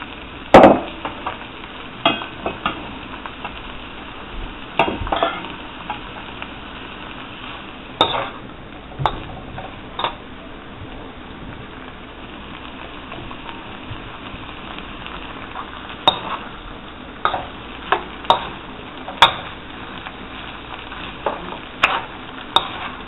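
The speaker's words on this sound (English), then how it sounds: "Now I'm going to add up the saltfish and fry it up a little." Saltfish frying in a pan with butter beans, a soft continuous sizzle broken by sharp clicks and scrapes of stirring utensils against the pan, close and moderately loud, with no talking.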